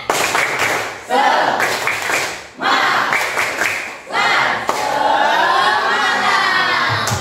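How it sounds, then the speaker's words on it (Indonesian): A school class of junior high students does a rhythmic spirit-clap game, bursts of loud group clapping in patterned beats separated by short pauses, with children's voices shouting along. "Jadi ada tepuk semangat."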